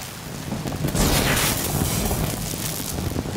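Rain arrives in the Sons of the Forest video game as a steady broadband hiss that swells after the first second and holds loud and even throughout, with no voices.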